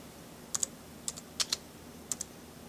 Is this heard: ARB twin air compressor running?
no